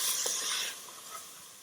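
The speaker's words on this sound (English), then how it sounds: "Give that a good stir." Dry basil and Italian seasoning are stirred through a sizzling pan with a soft, brief scrape over a steady faint hiss.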